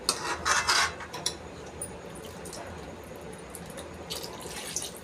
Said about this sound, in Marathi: तर इथे बघा एवढं पाणी टाकलेलं आहे मी